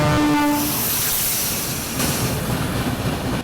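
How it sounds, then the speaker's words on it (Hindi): Lucknow Agra Fort Intercity Express passing close by on the opposite track in India, heard from aboard another train: a brief horn at the start, then a loud, continuous rush of wheels and carriages. "सामने से Lucknow Agra fort industry express जो है वो आ रही है"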